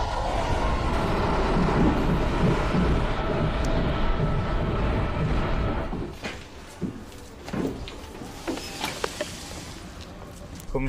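An old Russian train carriage rumbles and rattles steadily, loud at first, then quieter with clunks and knocks as it rolls along.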